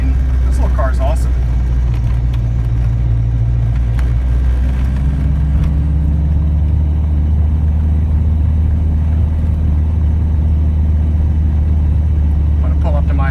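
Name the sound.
Callaway Rabbit car engine running while driving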